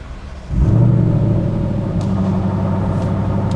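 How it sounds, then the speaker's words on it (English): A big supercharged V8 car engine cranks and fires up with a sudden loud roar, then settles into a deep, lumpy idle rumble that continues steadily. "I'm going to start the car"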